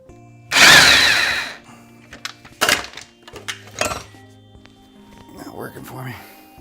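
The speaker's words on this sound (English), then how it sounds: "I may use my electric impact wrench on this" An electric impact wrench hammers briefly on the ball joint nut of a Hyundai Santa Fe, one loud close rattling burst followed by scattered metallic clanks and knocks, with someone talking in between.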